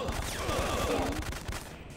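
Gunfire in the Syphon Filter video game, a quick rapid volley of low thudding shots close up over about two seconds, with no talk.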